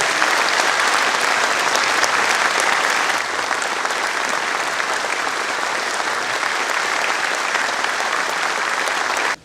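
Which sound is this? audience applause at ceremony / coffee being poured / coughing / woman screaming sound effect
audience applause at ceremony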